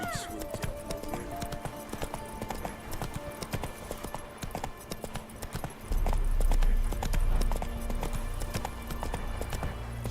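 Horse hooves clip-clop in a rapid gallop in The Witcher 3, a continuous rhythmic patter with a low rumble swelling midway, backed by game ambience and faint voices.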